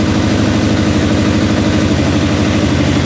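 A Suzuki GSXR motorcycle engine, a revived barn find, idles loudly up close with the throttle slightly open, holding a steady, even pulsing throb with no pauses.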